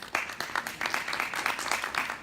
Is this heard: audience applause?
yes